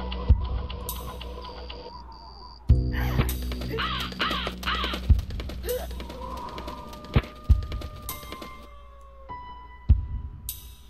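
Crows caw repeatedly in a video game scene, harsh calls arriving in clusters over ambient background, punctuated by several sharp thumps.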